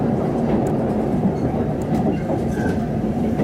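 A train rumbles and clatters along its rails at close range, arriving at platform 6 of JR Shin-Yamaguchi Station, a steady loud roll with faint squeaks and clicks as it slows.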